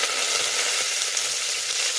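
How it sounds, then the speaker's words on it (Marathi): Curry leaves hit hot tempering oil for a Khandeshi masala khichdi, giving a loud, dense, crackling sizzle that holds steady and close for the whole moment. "यानंतर आपण टाकत आहोत कढीपत्ता"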